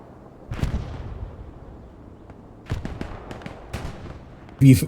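Distant explosions from a bombing strike thud across a World War II battle on Omaha Beach in a competitive match, a few scattered booms and cracks with a louder blast at the end, under a commentator's voice.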